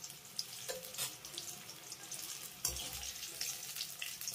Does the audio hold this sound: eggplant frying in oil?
yes